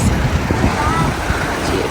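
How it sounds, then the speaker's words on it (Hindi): A waterfall pours down a snowy Scottish mountain into a lake, making a steady broadband rushing wash mixed with wind buffeting the microphone, with a voice murmuring underneath. "इस पहाड़ के ऊपर से ये आबशार आ रही है नीचे"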